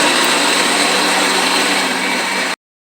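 A blender grinding spice ingredients for gulai, including curly red chilies and bird's-eye chilies, in a loud, continuous whirring roar that cuts off abruptly.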